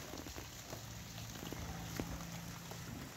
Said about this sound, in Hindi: बाकी बूंदाबांदी शुरू है और दिन छिप गया है।